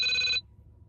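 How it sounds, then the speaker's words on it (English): A mobile phone gives a short, bright electronic ring that stops sharply partway through, then leaves a quiet room. "Ooh, that's my phone come through."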